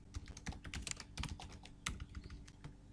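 Typing on a computer keyboard, quick irregular bursts of close, crisp key clicks with brief pauses between runs, no talking.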